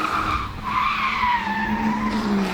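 Tires squeal in a long skid as a BMW E36 drifts under handbrake, with the engine droning underneath, loud and sustained.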